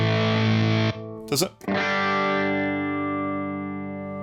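A guitar run through a HangmanFX effects pedal with fuzz distortion and modulation plays sustained, buzzing distorted notes. A brief spoken question cuts in, then the tone rings on and slowly fades.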